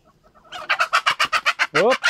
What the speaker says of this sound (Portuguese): Agora as galinhas bebendo soro